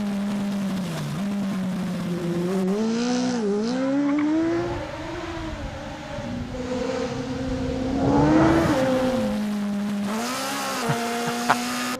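A ZCars R1 race car on track, its engine revving up and down through the gears with a rising and falling whine, close and prominent, with a sharp crackle near the end.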